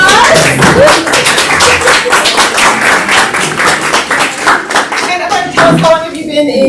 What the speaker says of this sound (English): Would you like to stand up and give a round of applause?